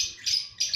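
Lovebirds in a colony give repeated high, shrill chirps, three bursts in quick succession that are close and clear against a quiet background, with no voices.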